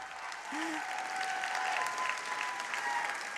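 Crowd at an EMILY's List political event applauding steadily, a continuous wash of clapping at moderate distance with faint voices underneath and no break.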